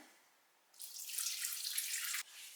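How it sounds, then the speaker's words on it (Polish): 500 ml of liquid pours into a slow cooker in a steady, bright splashing stream for about a second and a half, then stops abruptly in a quiet room. "Wlewamy 500 ml tego płynu."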